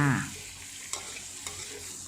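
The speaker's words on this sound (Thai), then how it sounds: "ใส่หมูเต้าหู้ แล้วก็หมูสับที่ เตรียมไว้นะคะนำไป ผัดรวมกันเลยค่ะ" Minced pork and tofu stir-fried with red chili for a holy basil stir-fry, a steady close sizzle with occasional soft scrapes of a utensil against the pan.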